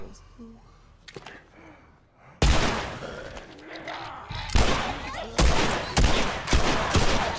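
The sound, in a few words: pistol gunshots at zombies in the video game The Last of Us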